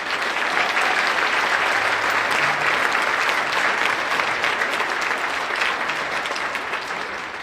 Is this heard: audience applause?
yes